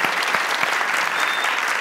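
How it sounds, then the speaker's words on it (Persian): A studio audience on a Family Feud-style game show applauds a competing family, a short burst of brisk, dense clapping close by with no voices over it. "تشویق کنین خانواده رحمانی را"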